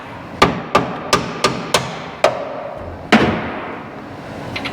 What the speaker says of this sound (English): I really want to beat on the threads there.